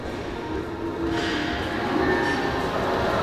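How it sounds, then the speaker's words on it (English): A funfair ghost train ride on the pier at Walton-on-the-Naze gives a steady, loud mechanical rumble and rolling clatter that stays continuous throughout. "You've got the ghost train."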